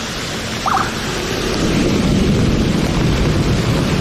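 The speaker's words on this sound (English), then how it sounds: "That rain, that thunder is so close." Loud, heavy rain roaring down nearby in Jakarta, swelling into a deep rumble of close thunder that fills the background, with a brief bird-like call early on.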